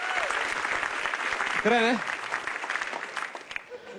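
Audience applause at a televised stand-up comedy show celebrating a TV station anniversary, steady loud clapping filling the room, with a brief spoken remark over it and the applause tapering off at the end.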